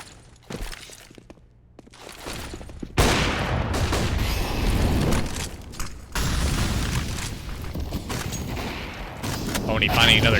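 Gunfire in a competitive CS:GO esports match: a sparse opening, then a loud sustained stretch of shots and explosions, with a caster talking over the action.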